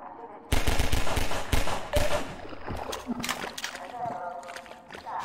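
Gunfire in the video game Half-Life 2: sharp bursts of rapid shots close up, then fainter scattered shots and impacts with a splashing, sloshing wash underneath, while a voice speaks over part of it.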